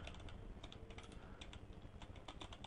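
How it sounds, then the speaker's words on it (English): Steady typing on a computer keyboard, a rapid run of light, close key clicks with a brief pause near the middle, heard alone without speech. "I would like to type a text."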